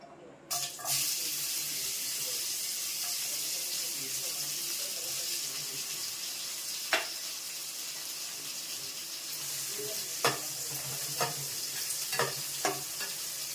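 Bitter gourd pieces fry in spluttering hot oil for Bengali sukto, a loud steady crackling hiss that starts abruptly as the gourd goes in, with occasional sharp spoon scrapes and pops later on.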